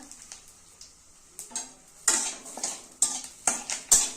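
Cardamom, black cumin and bay leaf are stirred in a pan, giving sharp metallic spoon scrapes and clacks against the pan in irregular bursts over a faint sizzle.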